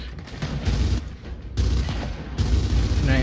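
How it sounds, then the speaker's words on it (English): Gunfire from the video game Gears of War 4, rapid bursts of shots and booms in close succession, loud and continuous with brief pauses between volleys. "Where are they shooting me from?"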